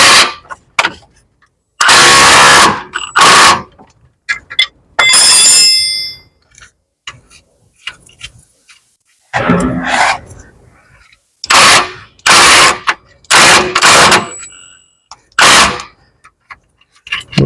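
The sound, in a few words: impact gun loosening Tesla Model X suspension bolt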